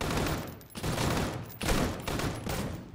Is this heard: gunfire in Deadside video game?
yes